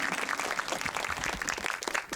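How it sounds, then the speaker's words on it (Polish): An audience in a cinema applauds at an anniversary screening marathon of Back to the Future Part II, a moderate, steady wash of many hands clapping throughout with scattered louder claps. "Wielkie brawa, że dziś obchodzimy 30. urodziny drugiej części."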